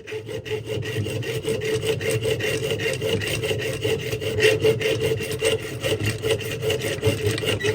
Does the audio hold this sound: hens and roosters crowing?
no